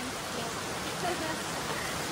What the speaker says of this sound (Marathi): एवढा जोराचा पाऊस आलाय